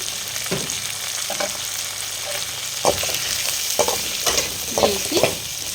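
Radish, carrot and drumstick pieces stirred in hot oil in a pan for sambar, a constant bright sizzle broken by several scraping spoon strokes and clunks, close up and with no one talking.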